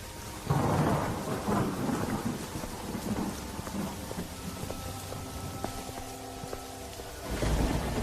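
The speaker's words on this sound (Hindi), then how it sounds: "तभी जोर जोर से बारिश शुरू हो जाती है" Heavy rain pours steadily while deep thunder rumbles and rolls, swelling at the start and again at the end; no voices.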